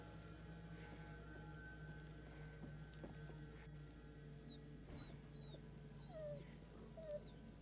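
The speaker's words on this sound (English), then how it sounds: "There's a dog." Dog whimpering in the horror video game The Devil in Me, a few high, thin whines and yelps rising over a dense, droning ambient backdrop, with no talking.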